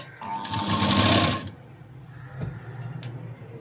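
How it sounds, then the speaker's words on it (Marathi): Sewing machine stitching straight along the square neckline band of a blouse, a close, fast whirring burst for about a second and a half, then quiet handling of fabric. "पहा मी सरळ शिलाई देऊन घेते।"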